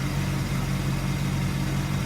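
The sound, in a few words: 1971 Buick Skylark original 350 V8 engine idling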